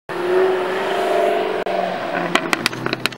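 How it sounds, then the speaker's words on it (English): A car engine drones steadily, then a few sharp pops crack out near the end, like backfires, with no voices. "Revs to 200 RPM, still backfires like crazy"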